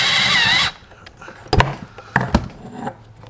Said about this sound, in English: we're just basically getting some needle nose and holding it. And then finish drilling it.